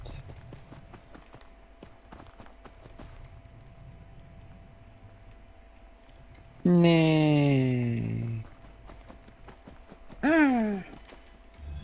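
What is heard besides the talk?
horse hooves clip-clopping in video game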